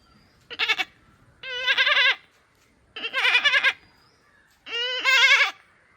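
A boy imitates a lamb's bleat with his voice, giving four separate wavering, nasal bleats spaced about a second apart, close and clear with no other sounds.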